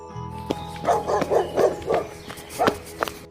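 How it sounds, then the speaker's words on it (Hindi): A pet dog barks loudly at night inside a house, a rapid series of sharp close barks in an uneven rhythm over a low steady background hum, with no one talking. "हमारा सीनू जोर जोर से भौंक रहा है"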